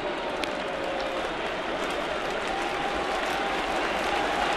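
A large crowd of about thirty thousand fans at a Major League Baseball stadium in the bottom of the ninth inning cheers and applauds steadily, a dense continuous roar with no break.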